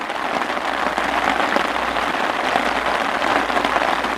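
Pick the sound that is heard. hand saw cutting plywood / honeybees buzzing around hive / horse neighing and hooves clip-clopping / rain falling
rain falling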